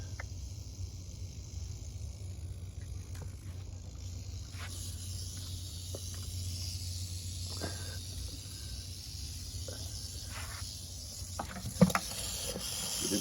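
Rattlesnake rattling: a continuous, faint dry buzzing hiss that holds steady throughout over a low background hum, with a few soft clicks near the end.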